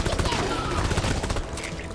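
Dense, continuous automatic gunfire from the video game Deep Rock Galactic, rapid rattling bursts that fill the moment, loud and close.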